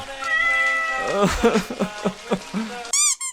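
A cat meows in a run of short, wavering cries, close and fairly loud, finishing with a higher-pitched yowl; a steady tonal backing sits beneath the opening second.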